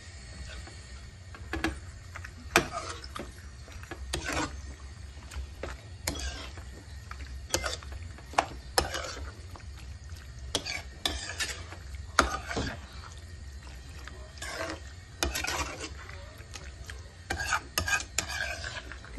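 Pasta with tomato being stirred in a pan, with repeated scraping and clattering strokes of a utensil against the pan at an irregular rhythm over a low steady hum, close and moderately loud, with no talking.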